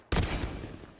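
A sudden burst of Valorant gunfire opens loud and close, a dense rattle that gradually thins into a fading tail.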